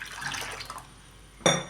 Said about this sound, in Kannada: ಆ ಕುಕ್ಕರ್ಗೆ ನಾನು ಒಂದು ಚಮಚ ನೀರು ಹಾಕ್ತಾಯಿದ್ದೀನಿ